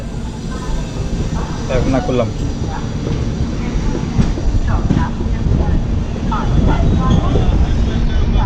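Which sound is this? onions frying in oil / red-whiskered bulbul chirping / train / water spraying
train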